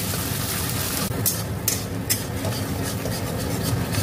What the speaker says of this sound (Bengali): এবার এটাকে রসুন আর আদা হওয়া অবধি এটাকে ভালো করে নাড়তে হবে